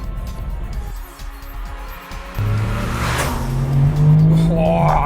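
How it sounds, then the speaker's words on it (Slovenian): A Porsche 959 accelerates hard once both turbos come on: a throaty engine note climbs steadily in pitch and grows louder and closer, with a tire-like squeal and rushing wind over it. "kako ta avto podivja, ko se zbolita obe turbini"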